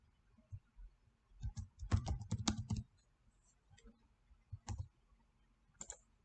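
Someone types on a computer keyboard in CAD drawing software, a quiet nearby cluster of key clicks with a rapid burst in the middle and a few isolated taps after, no voices.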